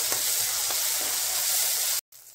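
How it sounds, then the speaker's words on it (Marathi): Tomato and garlic paste sizzles and fries steadily in a hot pan for baingan bharit, a continuous bright crackle up close with faint stirring, cutting off abruptly near the end. "आता लसूण पेस्ट टाकून घेऊया, चांगलं परतू ह्याला"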